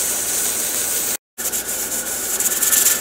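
A pressure canner's weight starts jiggling and rocking while turkey broth cans on a stovetop, giving a steady hissing, rattling noise that drops out briefly, then returns with an uneven rocking rhythm.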